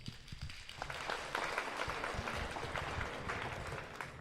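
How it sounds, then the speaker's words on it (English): Audience applause at a gospel singing competition, a steady broadband wash of clapping that swells after a quiet start and holds evenly to the end, with no talking over it. "Another round of applause, please"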